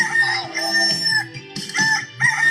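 A rooster crows loudly and close in a radio station identification spot, a long strained cock-a-doodle-doo with clucking fowl sounds around it.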